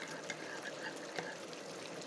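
Water mixed with sugar and flour is poured into a beef apritada, giving a faint, steady trickling flow with small splashy pulses and no talk over it.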